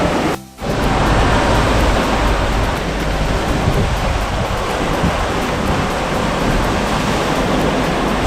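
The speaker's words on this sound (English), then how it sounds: "Still pretty windy, isn't it?" Wind and waves on a sailboat crossing the Atlantic in strong northeast trade winds, a loud, steady broadband rush of wind and water with a brief dip near the start.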